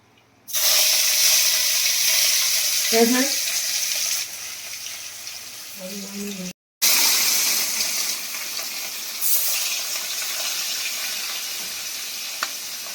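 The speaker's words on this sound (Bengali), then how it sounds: "যে কড়া গরম হয়ে গেছে, কড়ার মধ্যে এই যে মাছগুলো দিয়ে দেবো।" Turmeric-coated fish pieces hit hot oil in a wok, bursting into loud continuous sizzling frying that carries on steadily, briefly interrupted by a short gap, with occasional clinks of a utensil.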